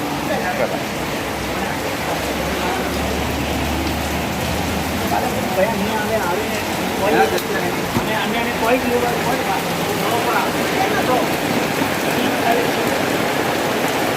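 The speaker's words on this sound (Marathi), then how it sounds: "पाऊस बघा किती आहे बाहेर" Heavy monsoon rain in Mumbai pours down in a dense, continuous hiss, loud and steady throughout with no pauses.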